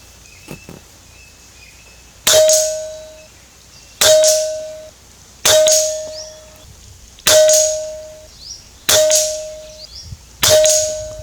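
Air rifle pellets strike Q-Shot plinking targets six times at steady intervals, each hit a sharp, ringing metallic clang that rings out and decays, with a few faint clicks before the first hit.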